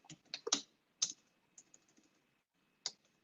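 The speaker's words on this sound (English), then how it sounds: "If I'm typing too loud, let me know." A computer keyboard is tapped in a few quick, faint bursts of clicks separated by short pauses, in a quiet room with no talking.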